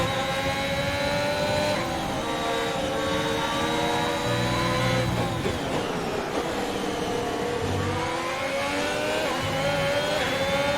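A Formula 1 race car engine in the F1 2021 video game screams steadily at high revs down a straight, with its pitch dipping and climbing again through gear changes. The sound is loud and continuous and no one speaks.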